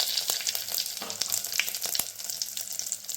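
Dried red chillies, bay leaf and cloves sizzle in hot oil, a steady close crackle with scattered sharp pops, heard alone.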